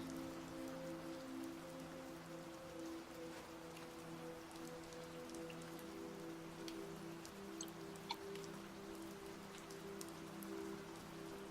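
Rain falls softly and steadily in a quiet meditation setting, a gentle continuous patter with scattered drips, accompanied by sustained low droning tones throughout.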